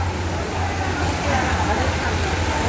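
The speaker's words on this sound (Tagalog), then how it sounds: "Grabe yung ulan sa labas." Heavy rain pours steadily outside an organic produce market, a dense continuous hiss close by with a low rumble beneath, and people chatting faintly in the background.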